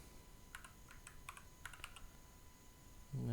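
Quiet computer keyboard typing in a few short bursts of key clicks, close and soft, with a sudden low thump at the very end.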